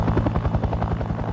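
A Huey military helicopter flies overhead, its rotor beating in a loud, rapid, steady thump close and alone.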